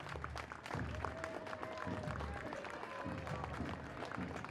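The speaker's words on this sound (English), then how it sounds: "You get more claps that way." A crowd applauding along a parade route at a Battle Day parade, scattered clapping over rhythmic drum-like thumps and street noise.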